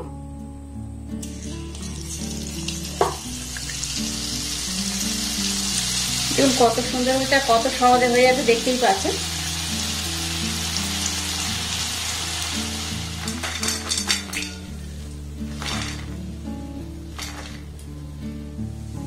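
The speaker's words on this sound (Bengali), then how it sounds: "সবগুলোকে এই পাত্রের মধ্যে আমি ভেজে উঠিয়ে নিচ্ছি" Gram flour (besan) snacks with a little cornflour frying in hot oil in a home kitchen, a steady crisp sizzle throughout with a louder bubbling burst midway, while a person talks over it.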